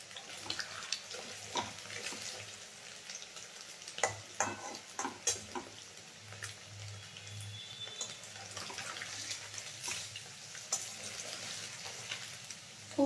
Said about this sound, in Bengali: একটু শ্যালো ফ্রাই করে নিচ্ছি।